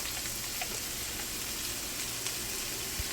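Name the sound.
cold rice frying on hibachi grill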